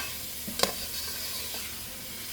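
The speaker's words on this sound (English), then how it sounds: "So basically we're stirring this until it browns" Food is stirred in a pan as it browns, with a soft constant sizzle, a single sharp scrape of a utensil against the pan and a few quieter knocks.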